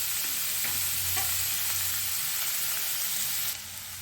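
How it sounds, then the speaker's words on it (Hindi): Spices and finely chopped tomatoes fry together in a pan over a low flame for a mustard-and-spinach saag, giving a steady close sizzle with a few soft stirring scrapes. The hiss eases slightly near the end, and no one speaks. "2 मिनट हो चुके हैं सभी चीज़ों को साथ में फ्राई करते हुए"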